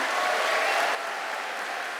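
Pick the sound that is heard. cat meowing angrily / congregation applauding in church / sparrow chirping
congregation applauding in church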